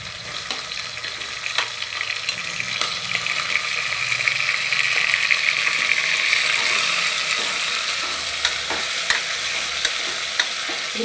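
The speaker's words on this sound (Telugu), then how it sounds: "ఈ మటన్ అయితే వాటర్ అంతా వచ్చే వరకు, మటన్లో ఉన్న వాటర్ అంతా తేలే వరకు మనం మంచిగా ఫ్రై చేసుకుందాం." Mutton pieces frying and being stirred in a pan for a tomato mutton curry, a steady bright sizzle with scraping spoon strokes and light clicks running throughout, close and continuous with no talk.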